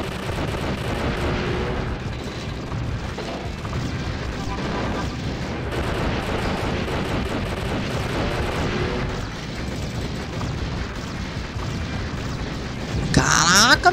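Explosions and gunfire from the arcade shoot-'em-up 1944 The Loop Master rumble in a dense, continuous barrage of booms and bursts, with a louder crackling flurry near the end.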